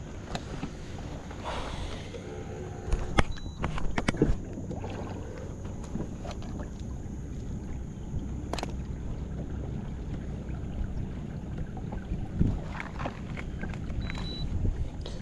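A kayak gliding across water on a windy day, with soft splashing and paddle knocks under a constant rush of wind against the microphone, close and moderately quiet, without talk.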